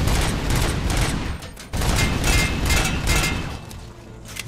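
Rapid turret gunfire in the video game RoboCop: Rogue City, loud and dense sustained bursts with a short pause midway, no talking.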